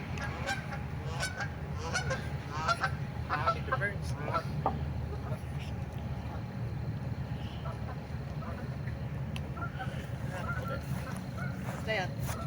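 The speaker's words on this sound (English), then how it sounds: "Here's some geese overhead." Geese honking overhead above an outdoor putt-putt course in Asheboro, North Carolina: repeated nasal honks from several birds come in irregular bursts over steady wind and background noise, fading toward the end.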